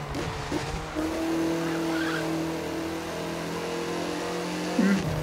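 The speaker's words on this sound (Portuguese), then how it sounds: "queimando o pneu" An Audi TT RS in the racing video game The Crew 2, its tires squealing in a long sustained skid over a steady engine drone, with a sharp screech flaring again near the end.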